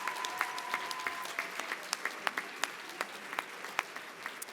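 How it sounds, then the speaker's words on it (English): Applause for Northwood Middle College students at a dual enrollment recognition ceremony, a steady patter of many hands at moderate distance with a few sharper nearby claps, no talk over it. "A round of applause for our Northwood Middle College students."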